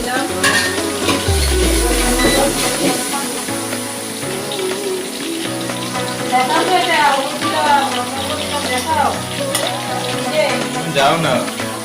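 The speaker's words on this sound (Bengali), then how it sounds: "এই যে এখানে ভাজা শুরু হয়ে গেছে।" Spices with turmeric and chili powder fry in a hot pan, giving a loud, close sizzle with clattering stirring and scraping, while voices talk over the cooking throughout.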